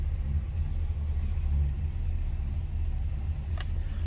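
A 1966 Chevrolet Caprice two-door hardtop idles steadily after starting, its engine producing a continuous deep rumble close by, with no talking.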